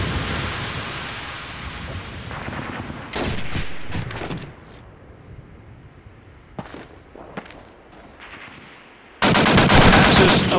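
Machine gun fire in Call of Duty 2 on Xbox One comes as loud rapid bursts, a sustained burst near the start, scattered sharper shots mid-way, and a heavy roaring burst at the end over a rumbling battle background.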